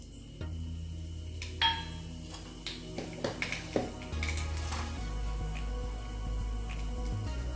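Mustard and fennel seeds stirred into hot oil in a pan for spicy masala noodles, with sharp clinks of a utensil against the pan, small pops and crackles, and a low hum underneath.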